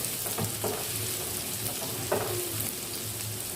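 Chopped carrot and capsicum fry lightly in a pan, giving a steady, close sizzle with a few soft stirring knocks and no talk.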